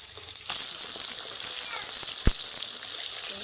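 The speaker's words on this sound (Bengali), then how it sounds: "এইরকম কিন্তু ভাজতে হবে কই মাছগুলোকে।" Koi fish frying in a little oil, a steady loud sizzle that swells after a brief quieter start, with a sharp clink partway through as the pieces are turned.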